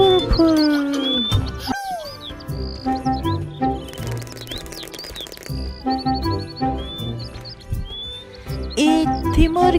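Bird chirps, a chicken and a songbird, as quick high tweets and calls scattered over a musical backing, fairly close and bright.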